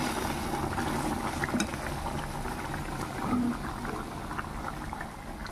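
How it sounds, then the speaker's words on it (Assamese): Water boils in a pot at home, a steady bubbling roil with small pops and gurgles, moderately close and continuous, with no voices over it. "ইয়াতে এইফালে পানী উতল আহি আছে"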